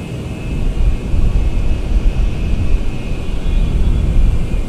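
Large military aircraft at Washington Dulles airport in a flight simulator game produce a loud, continuous engine roar with a faint steady whine riding above it, with no talk.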